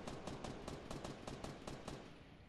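Rapid gunfire in a video game shootout, a string of about ten evenly spaced sharp shots in quick succession, crisp and fairly distant-sounding at low volume, with no talking.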